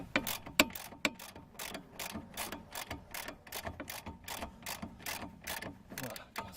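Ratchet wrench turning a bolt on a car's stabilizer bar link: a steady run of quick, close clicking strokes, each pull sounding as a short burst of ratchet clicks, repeated a dozen or more times in an even rhythm.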